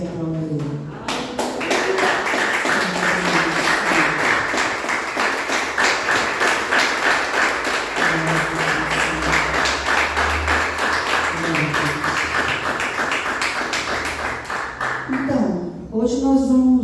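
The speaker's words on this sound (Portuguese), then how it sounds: "fica de pé e aplauda Ele" A church congregation stands and claps in a brisk, steady rhythm for a long stretch, with loud, even beats running throughout and a few voices heard at the start and at the end.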